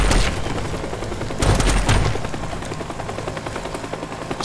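Helicopter rotor drone with bursts of gunfire in the voxel destruction game Teardown, a loud, continuous dense roar with heavier thumping volleys around the middle.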